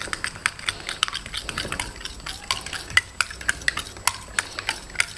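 A utensil stirs and scrapes through cheese roll filling made with egg, black pepper and salt in a bowl, giving close, steady rhythmic clicks and taps for several seconds with no talking.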